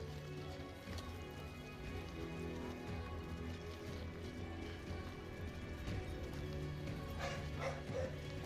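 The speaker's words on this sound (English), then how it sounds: "Oh, my dog's barking." A dog barks amid a busy game soundscape with steady music and ambient noise in Death Stranding 2, the barking mixed in rather than standing out clearly.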